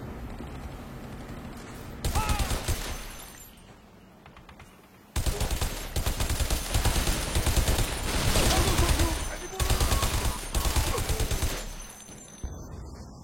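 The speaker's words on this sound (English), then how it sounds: "I forgot the guns make this noise when you're low" Video game guns fire at low ammo in long rapid mechanical bursts, a dense rattling clatter that cuts off abruptly between volleys and carries on steadily for many seconds.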